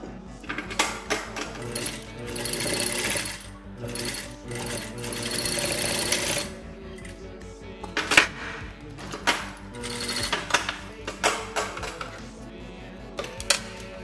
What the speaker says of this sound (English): just do a nice tack stitch